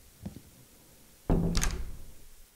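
A door is pulled shut behind someone leaving a room, giving one solid thunk with a short rattle after it, fairly close above a quiet background.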